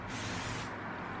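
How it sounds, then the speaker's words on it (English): Moroccan Oil heat protectant is sprayed onto the ends of long hair in one continuous close hiss lasting just over half a second, then a softer fading tail. "Or spray it directly into your face like I did."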